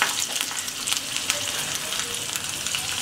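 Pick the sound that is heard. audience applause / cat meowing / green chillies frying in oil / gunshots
green chillies frying in oil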